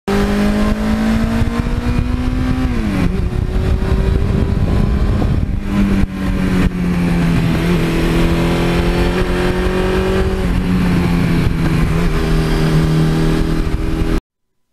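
A 1982 Suzuki GS1100E motorcycle engine runs loud and continuous while moving through the gears, its pitch climbing then dropping at each shift, heard up close with constant wind and road roar and no voices.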